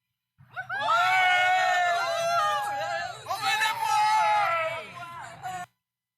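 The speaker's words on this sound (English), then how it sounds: "Group of people cheering." A group of people cheering and whooping as a sound effect, a loud, lively burst of overlapping shouts and screams that swells, dips briefly, then surges again before cutting off.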